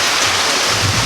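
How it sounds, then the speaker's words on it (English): Steady rain falls outdoors during a boat rudder build, a dense even hiss of drops that fills the short stretch at near-constant loudness, with no voices. "it's raining again and again"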